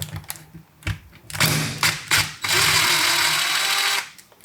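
Impact wrench works loose an A/C compressor bolt on a Toyota pickup/4Runner 3.0 V6, several short hammering bursts close by, then a longer sustained rattling run before stopping.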